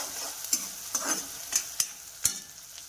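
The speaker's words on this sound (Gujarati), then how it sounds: "થોડા ચલા દઈશું લસણ ને ડુંગળી મરચાં" Garlic, onion and chillies are stirred in a pan for a Gujarati tuvar curry. A soft, steady sizzle runs underneath while a spoon scrapes at irregular intervals, giving several short clacks.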